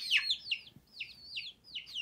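Small birds, likely baby chicks, chirp high and repeatedly in short rising calls about every half second, close by and clear over a quiet background.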